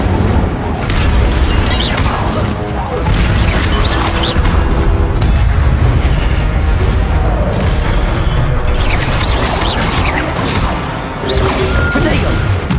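Incendio fire spell cast in the Hogwarts Legacy video game, a loud booming burst and crackling impact within continuous spell and combat noise.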